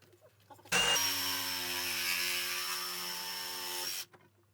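A power saw cuts through pool pump plumbing pipe, a loud whining burst of about three seconds that starts abruptly and stops sharply, close by with no talk.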